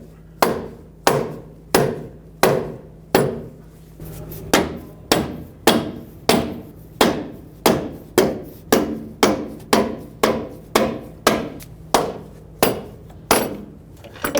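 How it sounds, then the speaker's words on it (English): A rubber mallet taps a front strut up into place on a 2015-2020 GMC Yukon, about two dozen sharp, evenly spaced knocks landing close and loud, roughly two per second, with no talking. "Now I'm going to take a rubber mallet and tap it from the bottom"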